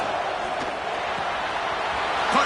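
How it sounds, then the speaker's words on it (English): A stadium crowd at an Ohio State versus Penn State college football game sends up a steady, distant roar that swells slightly toward the end, with no clear speech. "This crowd is trying to inspire this defense to make a big red zone stop."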